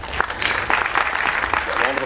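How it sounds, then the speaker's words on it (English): Audience applause at a talk on a record-breaking birding year around the world: dense, continuous clapping from a room full of people, fairly loud and sustained for a couple of seconds. "A round of applause as well."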